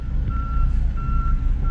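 A cement truck backing up sounds a steady, repeating reverse beeper over loud, rumbling engine and road noise, with no talk.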